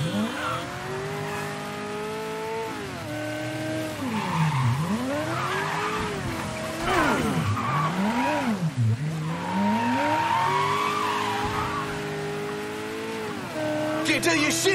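Tires squeal and skid through repeated sliding turns in Mafia III while a racing engine revs underneath, loud and close, with no pause.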